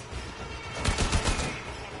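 Gunfire in the video game Warframe comes as a brief rapid burst of overlapping shots in the middle of a noisy game soundscape.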